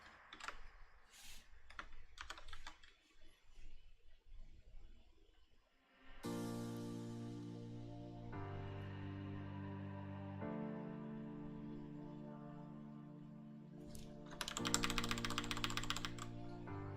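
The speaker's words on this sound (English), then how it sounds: "If you hear clicking, I'm sorry, it's my keyboard." A computer keyboard clicks during a live concept-art painting stream: bursts of typing, with steady sustained tones behind them later on and a denser flurry of keystrokes near the end.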